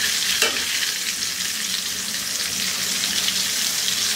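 Eggplant frying in a pan, a loud, close, bright sizzle that runs without a break, with a brief scrape of stirring near the start and no talking.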